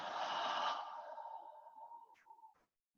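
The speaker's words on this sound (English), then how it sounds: "you'll inhale through the nose. Exhale, let it go." A long, soft breath exhaled during a yoga session, starting full and airy and slowly fading over a few seconds, with a faint tonal edge near the end before silence.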